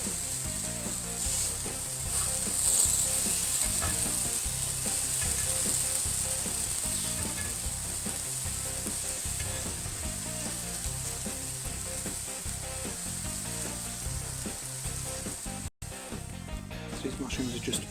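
Smash burger patties with mushrooms sizzle and fry steadily on a hot griddle, a loud continuous crackle with occasional scrapes of a spatula, and a voice talking over the cooking.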